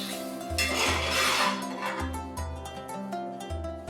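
Marinated chicken keema is stirred in a pan over a high flame, with a sizzle and clinks and scrapes of a spoon against metal recurring in a loose rhythm, close up.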